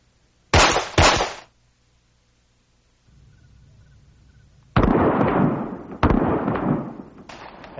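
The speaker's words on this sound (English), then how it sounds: "This time give me 2 headshots, Bill." Gunshots on an outdoor shooting range: two sharp, loud reports in quick succession, a pause with low background rumble, then a heavier burst of shots and another crack, close and booming.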